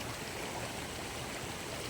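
Floodwater rushing across a flooded rice field, a steady, close, broad watery roar with no voices.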